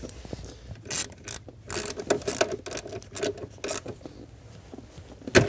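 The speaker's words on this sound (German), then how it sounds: "Und jetzt schraube ich wieder drauf." A ratchet wrench tightens a part back on while a car audio system is fitted in a VW Golf 6, heard as quick bursts of clicking and rattling strokes with short pauses between, close and fairly quiet.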